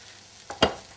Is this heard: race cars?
no